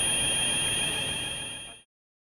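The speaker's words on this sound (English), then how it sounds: "So we have a solid tone and a solid red light," Proximity detection system danger zone alarm sounding a solid, continuous high-pitched tone, loud and close, that cuts off abruptly near the end with no talk over it.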